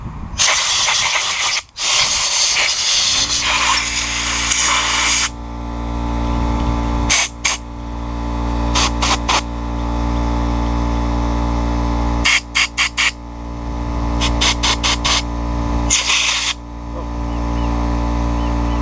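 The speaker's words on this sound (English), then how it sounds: "I'm just going to take some compressed air" Compressed air blasts at a lawn mower part, loud hissing bursts that start and stop repeatedly, some long and some short, over a low steady engine-like hum nearby.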